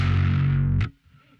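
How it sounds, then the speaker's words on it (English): Heavily distorted metal electric guitar with no noise gate holds one thick chord, then cuts off sharply, leaving a faint hum and hiss. "we've just got a noise gate cutting out everything between the notes, so without that it sounds quite noisy"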